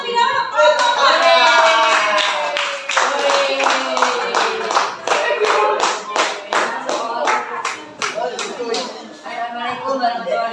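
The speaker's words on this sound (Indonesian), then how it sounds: "Beri tepuk tangan terlebih dahulu kelompok 4." Audience clapping for a group about to present at a school coaching session, a burst of individual claps in an irregular rhythm, close and fairly loud, with a voice talking over the start.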